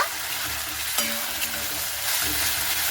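Papaya pieces are stirred in a hot pan with salt, turmeric and Kashmiri chili powder, making a loud, continuous sizzle with scraping strokes and a sharp utensil clack about a third of the way in.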